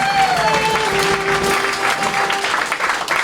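An audience at a live comedy show applauds in a dense, continuous wash of clapping and crowd noise that runs the whole length without letting up.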